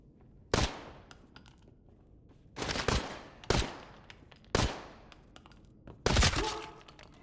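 Five sharp video game gunshots ring out at uneven intervals, some in quick bursts, each followed by a short decaying echo against a quiet background.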